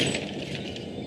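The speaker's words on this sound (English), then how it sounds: "Now a stylish glass coffee table." A stylish glass coffee table smashes after a fall, giving a bright glassy clink and crash that rings out briefly, moderately loud, with no talk.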